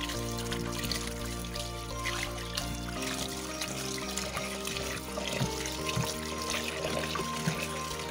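Tap water runs steadily into a sink while raw meat is washed, a continuous near splashing and trickling with small clatters and no talk.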